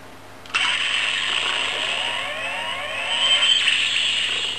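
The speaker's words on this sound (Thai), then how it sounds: "ก็จะเป็นเสียงแบบนี้ส่วนใหญ่ ของแปลงร่าง" A Brace Throttle toy transformation belt kicks in with a bright electronic whirring and chiming tone that warbles and rises, holding steady for several seconds.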